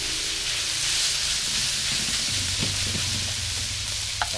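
Vegetables stir-fry with wild boar meat in a spicy Thai-Isan dish, a loud, steady sizzle and hiss with a few scraping stirs near the end, close up and without talk.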